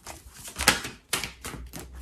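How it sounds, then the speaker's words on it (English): Tarot cards shuffled by hand up close, giving a series of crisp riffling, clattering bursts separated by brief pauses, with no voices. "So I'm shuffling the cards."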